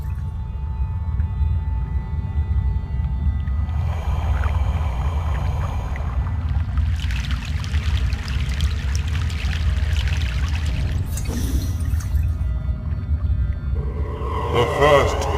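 A boat crossing a river in Egypt in the video game Broken Sword: The Sleeping Dragon, with steady low water churning and rushing throughout, swelling splashes and trickles in the middle and a brief burst of sloshing near the end.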